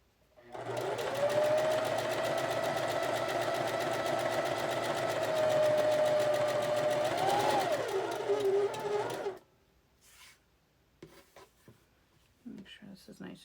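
A sewing machine runs fast and steady while stitching quilt block fabric, a close continuous whirring that stops abruptly, followed by fabric handling sounds and a voice.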